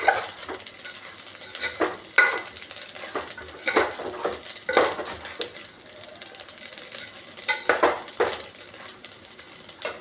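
Raisins and half-broken cashews being stirred into basanti pulao, a scraping, clinking spoon working the pot in repeated strokes with a light background sizzle, close and steady with no talking.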